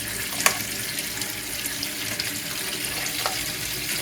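Water runs steadily from a tap during hydro planting, a continuous broadband hiss with a brief splashy burst near the start, close and fairly loud with no talking.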